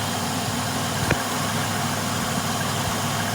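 The engine of a 1996 Dodge Grand Caravan runs close by with a steady, throbbing mechanical drone and faint vibration. It holds an even pitch throughout, with no talking.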